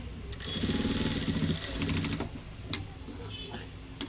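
A blouse neckline is stitched on a sewing machine with a number five stitch, a steady mechanical whir and clatter that slows and stops, followed by a few faint clicks.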